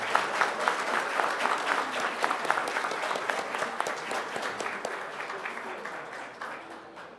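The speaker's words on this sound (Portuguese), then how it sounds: "Uma salva de palmas aos agraciados" Ceremony guests applaud honored public security agents with dense, sustained clapping from a large crowd, steady and fairly loud before easing slightly toward the end.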